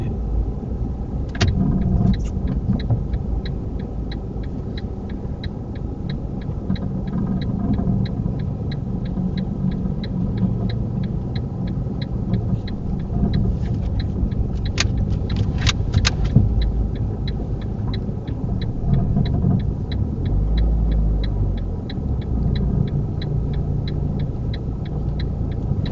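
A car on a UK driving mock test pulls forward into a parking bay, its engine rumbling steadily and close from inside the cabin, with a faint repeating indicator-like ticking throughout.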